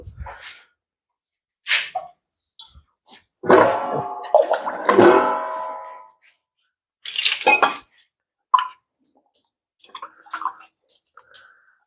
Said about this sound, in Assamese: বিলাহী 3টা অকণমান মই ইয়াত ধুই ল'লোঁ